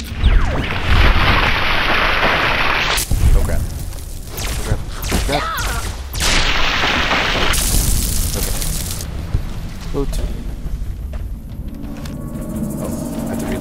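Loud booming gunshots and blasts from the Fallout: New Vegas video game, several heavy bursts in close succession with dense rumbling between them and a voice talking over the action.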